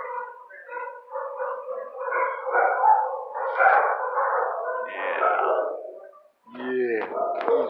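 A year-old shelter dog in its kennel gives drawn-out, howling barks and yips in a continuous close string, then a short pause and sharper yelps.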